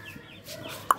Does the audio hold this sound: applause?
no